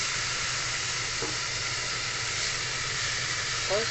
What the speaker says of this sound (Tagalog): Gisa lang kayo, mag-gisa lang.